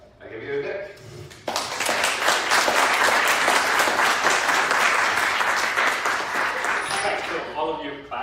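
Audience applause at an open house talk swells right after a speaker's introduction and runs steady and dense for several seconds before fading, with talking just before and after.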